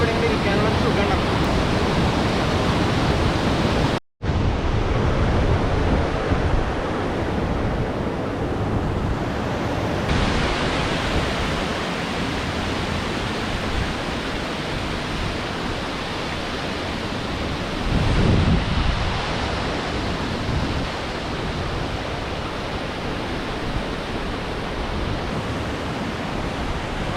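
Waterfall roar in a scenic spot, a steady broadband rush of falling water that stays loud and continuous throughout, with a brief dropout near the start and a slight swell later on.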